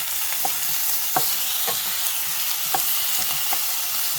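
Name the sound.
chopped tomatoes added to onions and cooking in a pan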